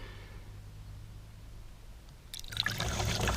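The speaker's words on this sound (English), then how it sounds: "so let's pour this in there." Paramotor fuel fouled with water is dumped into a waste jug after a quiet stretch, the pour starting suddenly as a loud splashing, gurgling stream that runs to the end.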